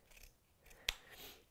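Scissors make a single crisp snip through fabric while excess seam bulk is trimmed during sewing, a sharp isolated cut set against a quiet room.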